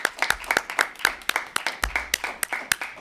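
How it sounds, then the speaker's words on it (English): A small audience at a legislative event applauds two mothers: sparse, close, distinct claps from a few people in an uneven rhythm, with no talking over them. "So one more time, a round of applause for them."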